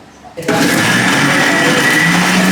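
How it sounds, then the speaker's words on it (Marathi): Mixer grinder whirring as it grinds roasted spices into masala paste in a restaurant kitchen, starting abruptly after a quiet moment and then running loud and steady at close range. "आता त्याला आपण मिक्सरमध्ये पेस्ट करत आहोत"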